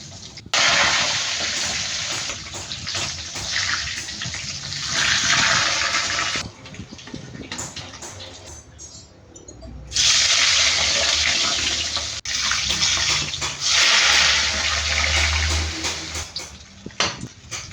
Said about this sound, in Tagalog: para marinig nyo yung tunog ng pag-prito